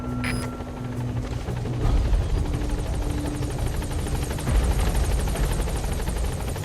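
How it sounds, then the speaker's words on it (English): The Pequod helicopter from the video game Metal Gear Solid V approaching, a loud steady rotor drone with fast blade chop that swells slightly as it draws near, no talk. "This is helicopter Pequod."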